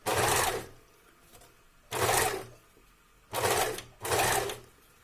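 Sewing machine stitching a curved seam in a garment, running in four loud bursts of about half a second to a second each, separated by quiet pauses.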